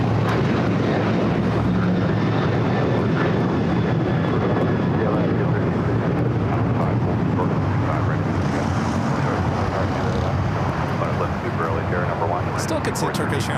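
A jet airliner taking off from runway 25 Right at Los Angeles International Airport, a loud, sustained engine roar with wind buffeting that fills the whole span, while a commentator talks over it.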